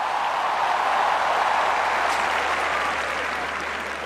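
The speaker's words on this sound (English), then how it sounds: "Let's give a huge round of applause" A huge crowd at a Rugby World Cup opening ceremony applauding the captains, a steady, broad roar of clapping from a large stadium audience that holds at full strength throughout.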